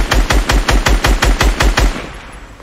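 Turret machine gun firing in Fortnite during a duo squad match: a loud, rapid string of about ten evenly spaced shots, then a sudden stop and a faint single click near the end.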